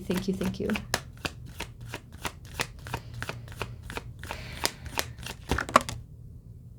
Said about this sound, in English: let's get a shuffle here